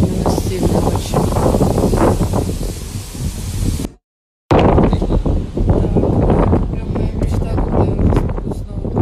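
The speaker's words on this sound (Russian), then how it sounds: "ветер, конечно, сегодня у нас сильный очень" Strong outdoor wind buffets a microphone with loud, rumbling gusts and rustling, cutting out briefly for a moment before resuming just as heavily, while someone talks beneath the noise.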